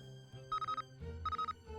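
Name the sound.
phone ringtone in video game Nancy Drew: The Captive Curse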